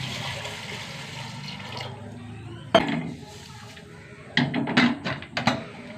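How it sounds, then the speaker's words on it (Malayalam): Water is poured into a curry pot of turmeric, salt and pepper powder, giving a steady gushing splash. A few sharp metallic clinks and knocks of the pot follow, with no talking. "വെള്ളം ഒഴിച്ച് കൊടുക്കാം."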